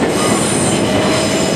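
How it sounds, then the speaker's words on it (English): British Rail Class 455 and 377 electric trains at Clapham Junction roll close by with a loud, steady rumble and squealing wheels on the track. "Coming in now is a 377 for London Victoria, 377 466. 455 is departing for Guildford."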